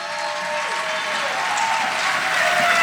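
Audience at a senior women's pageant breaks into steady applause, a dense, even wash of clapping that swells slightly, with a faint voice underneath.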